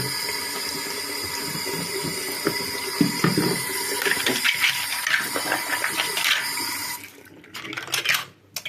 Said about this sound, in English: let's just give them all a last rinse